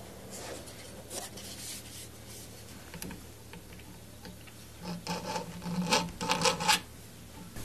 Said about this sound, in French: j'insiste avec le burin dans le sillon que j'avais tracé tout à l'heure avec une pointe légère